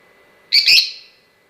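A single short, bright chirp from lovebirds in a breeding box, where a hen sits with two chicks; one loud, close call in an otherwise quiet space.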